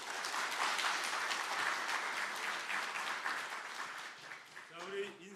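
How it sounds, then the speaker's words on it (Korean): Congregation applauding warmly during a Korean afternoon praise worship service in church, a dense steady wash of many hands clapping that tapers slightly near the end, with voices emerging faintly underneath. "다시 한번 뜨겁게 박수로 환영하겠습니다"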